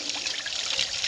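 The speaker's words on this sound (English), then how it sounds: "That water is going to drain out." Water trickles and gurgles as it drains out of an irrigation pivot pipe on a farm, a steady close splashing flow that holds for about a second.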